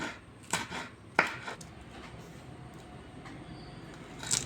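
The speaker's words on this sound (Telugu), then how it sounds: "2 పచ్చిమిర్చి అయితే తీసుకున్నా, ఇవి కూడా సన్నగా కట్ చేసుకోవాలి" A knife taps a cutting board a few times while green chilies are chopped finely in a home kitchen for a chana tadka recipe. The knocks are sparse and crisp, with quiet room noise between them and no talking.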